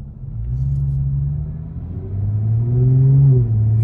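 A Lexus GS 350 fitted with a Borla S-Type axle-back exhaust pulls away with a deep, rumbling engine note that drops slightly, then swells again as the revs climb, heard from inside the car.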